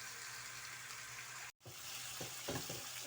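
Ingredients frying in a pan for biryani make a dense, steady sizzle that cuts out for a moment, then resumes with a few stirring scrapes.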